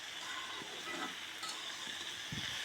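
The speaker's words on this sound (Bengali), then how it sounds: "আলুর সঙ্গে মশলাটাকে খুব ভালো করে মিশিয়ে নেড়ে চেড়ে কষিয়ে নিচ্ছি।" Potatoes being stirred and fried with ginger, cumin, green chilli, turmeric and salt in a pan, a steady sizzle running throughout with a few soft scraping stirs near the end; no one speaks.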